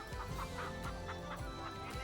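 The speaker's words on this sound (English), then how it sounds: "And please repeat the chicken." Chickens cluck and chatter in a busy barnyard loop, several birds overlapping in quick, rhythmic bursts at a fairly quiet, steady level with no voices.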